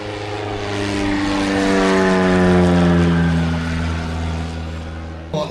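A large radio-controlled model plane at an outdoor show drones loudly overhead, its propeller engine swelling as it approaches and fading as it passes.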